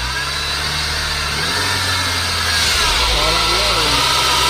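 A 2006 Saab 9-5 turbo that was a flood car runs loud and close, its engine droning steadily and rising as it revs, with exhaust roar throughout and people talking over it.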